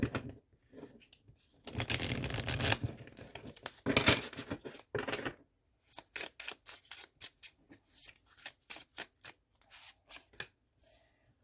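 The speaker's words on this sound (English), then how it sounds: "I feel like doing a bridge shuffle." Tarot cards get a bridge shuffle up close: a riffle burst, then a cascading riffle, then a run of soft rhythmic taps and slaps as the deck is squared and cut, quiet and without talk.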